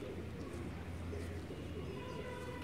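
A rooftop pigeon coos faintly in low, soft notes under steady background noise.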